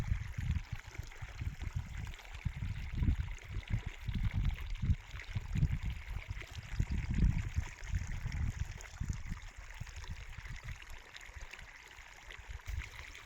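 Irrigation water from a bore well flows along and into field beds, a low, steady gurgling trickle with uneven rumbling surges, fairly faint and continuous with no talking.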